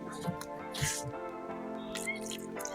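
Water splashes and drips into a bowl of bhajji batter in a few soft bursts, with steady background music running underneath.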